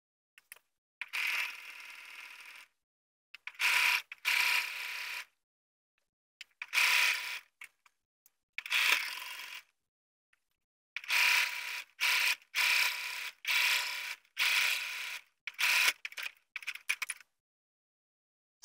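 A sewing machine edge-stitches along the folded edge of a lower pant leg, running in short whirring bursts separated by pauses, close and clear with no talk.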